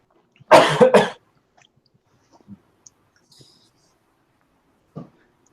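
A single loud cough bursts out, followed by a long quiet stretch with a few faint small noises and one soft sound near the end.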